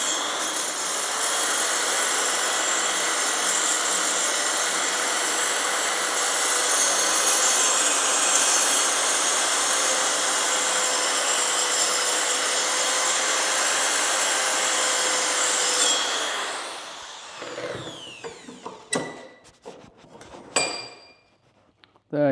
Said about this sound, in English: the guide is helping to locate the grinding wheel on the edge